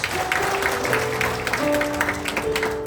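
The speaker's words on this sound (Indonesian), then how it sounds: "Boleh dong tepuk tangan buat Tuhan Yesus" Church congregation applauding for Jesus during a revival service in Malang, a dense steady wash of clapping with sustained tones, likely music, running underneath throughout.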